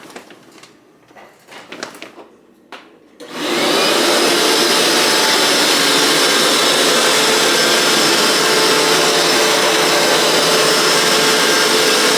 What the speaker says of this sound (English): I'm going to clean this up, vacuum in here